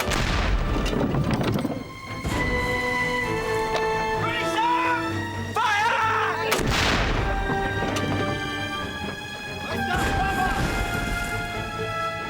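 Ship's cannons fire in a naval battle at sea, heavy booms and crashes recurring across a dense, loud din of continuous action with shouting and commotion throughout.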